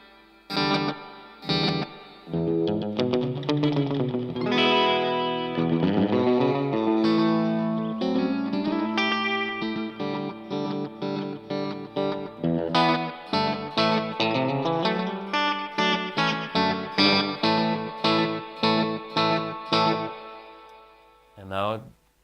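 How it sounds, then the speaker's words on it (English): Electric guitar played through a tape echo emulation, phrases and chords trailing off in repeating delayed echoes, loud and continuous with no talk. "maybe we need more delay, which is echo"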